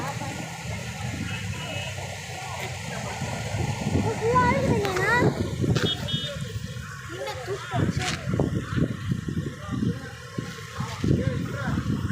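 Water rushes and splashes steadily at a park in Manali, a loud continuous flow with people talking over it throughout.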